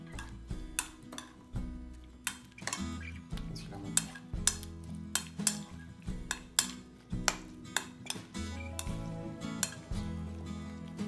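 Vegetarian ceviche being mixed with cilantro in a bowl: a steady rhythm of spoon or utensil clinks and scrapes against the bowl, repeated hits about every half second, close and clear with no talking.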